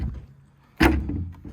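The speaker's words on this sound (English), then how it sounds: "So when you shut this door," Door of a digger slammed shut while its faulty catch and broken spring fail to latch, giving a single loud thud near the middle followed by a short rattling tail, heard up close with some low background rumble.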